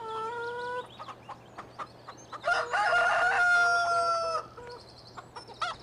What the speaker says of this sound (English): over here we have our chickens